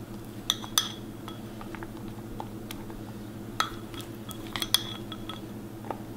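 Small spoon clinks against heart-shaped molds as chocolate filling is dropped in, a few sharp metallic taps scattered over a quiet steady hum.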